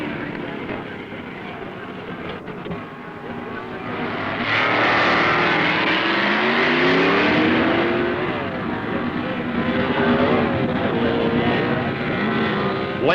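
Two 1969 drag racing cars, Dick Landy's modified production Dodge against Carl Houchin's Chevy, roar down the strip at a Street Eliminator event, engines rising and sweeping in pitch under a continuous loud crowd-and-motor wash.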